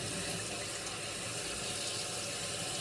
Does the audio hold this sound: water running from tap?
yes